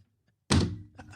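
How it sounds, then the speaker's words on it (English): A telephone handset slams down with one sharp, loud thunk, followed by a short rattling decay and a few faint clicks, heard alone without speech. "That was my phone slamming down."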